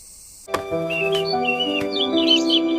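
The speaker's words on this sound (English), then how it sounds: "Can you hear the birds?" After a sudden start, birds chirp and warble in short, bright phrases over a steady tonal background hum.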